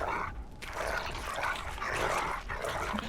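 A dog in a video game gives short yips and barks, moderately loud over a steady bed of game ambience, with a brief quieter gap early on.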